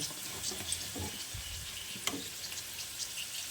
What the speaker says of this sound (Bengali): এইভাবে উল্টে পাল্টে ভেজে নিতে হবে চার সাইড সমান করে